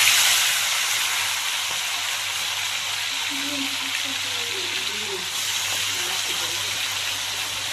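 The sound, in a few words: marinated chicken added to hot pan, sizzling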